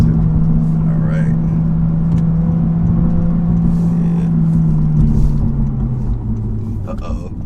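The four-cylinder engine of a Honda Civic Si drones steadily from inside the car, then its pitch drops as the revs fall, with low rumble underneath and no talk.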